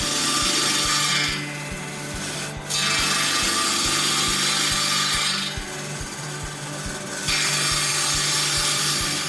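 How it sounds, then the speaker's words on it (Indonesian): Handsaw (gergaji) cutting teak wood in a woodcraft workshop, a steady rhythmic rasp of back-and-forth strokes with two bursts of louder hiss, close and alone with no talk. "Untuk proses pertama kali kita potong-potong bahan menggunakan alat gergaji sarkal."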